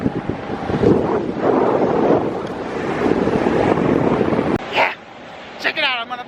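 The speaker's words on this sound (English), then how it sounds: "it's a bit windy out here" Strong wind buffets the microphone on the coast of Martha's Vineyard, a loud rumbling gusty roar that drops away near the end, with a voice and a dog's bark briefly heard over it.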